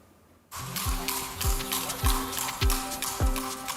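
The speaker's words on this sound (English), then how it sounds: "The clip-clop of horses has been heard on the streets of Dublin for generations." Steady clip-clop of horse hooves on a hard Dublin street, several evenly spaced strikes after a brief quiet start, fairly close and clear.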